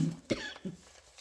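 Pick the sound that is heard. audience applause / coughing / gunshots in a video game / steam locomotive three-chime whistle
coughing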